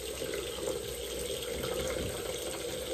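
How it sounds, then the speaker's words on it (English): Hot water pouring steadily from a bathroom tap into a sink, a continuous close hiss and splash with no voices. "Now turn the water back on and put it on hot."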